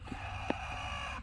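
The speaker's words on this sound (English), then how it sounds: "Every time another hen walks in the coop to lay an egg, you hear her get mad." Wyandotte hen squawking in annoyance inside a chicken coop while another hen comes in to lay; a couple of short, sharp clucks over a steady background hum, close by and moderately loud.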